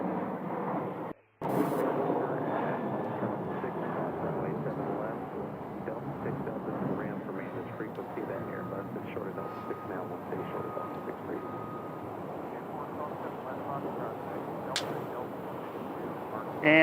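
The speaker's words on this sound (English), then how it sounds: "WestJet, the Canadian airline, is going to make their way to the south side here for departure in their 737." A WestJet Boeing 737 airliner taxis for departure at Sky Harbor airport, a steady broad jet-engine rumble and whine sustained throughout, with a brief dropout near the start.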